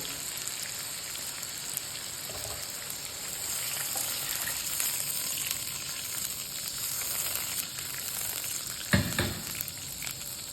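Yakhni stock goes into a tomato-onion masala frying in a pan, giving a steady, loud sizzling hiss with a sharp burst near the end as the liquid hits the hot pan; no one speaks.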